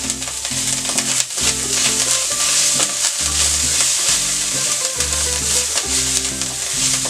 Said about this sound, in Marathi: साधारणपणे कच्चेपणा जाईपर्यंत आपण ते परततो.